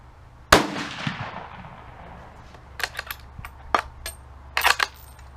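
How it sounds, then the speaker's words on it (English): Ruger American rifle firing Hornady American Whitetail 139 grain bullets outdoors: one loud sharp shot with a long decaying tail, followed by several fainter clicks and clacks of bolt and handling. "our first bullet we're going to shoot is the Hornady American Whitetail Classic"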